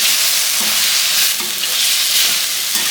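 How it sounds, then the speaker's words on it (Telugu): Carrot, cauliflower and potato pieces frying in ghee and oil in a single pot, giving a loud, steady sizzle with occasional stirring scrapes and no talking. "కొంచెం మంచిగా ప్రాపర్గా వేయించుకోవాలి ఈ నెయ్యిలో ఆయిల్లో వేగితేనే ఫ్లేవర్ అనేది బాగుంటుంది"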